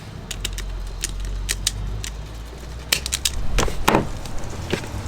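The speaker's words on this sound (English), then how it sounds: "Strip off the insulation." A hand wire stripper pulls insulation off electrical wire during a camper van DC panel build, heard as sharp, close mechanical clicks and snaps over a low hum, with a denser cluster of clicks near the end.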